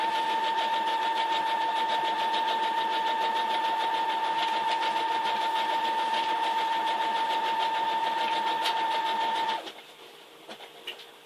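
A sewing machine runs a zigzag stitch across a quilt label, giving a steady, continuous motor whir with a fine rapid stitching patter for about nine and a half seconds before stopping abruptly into near silence.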